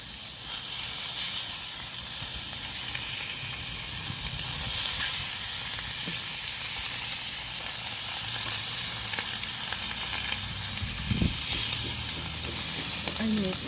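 Butter sizzling in a pan over a campfire before frying mojarra fish, a steady close hiss running throughout with a few clinks and soft voices in the background.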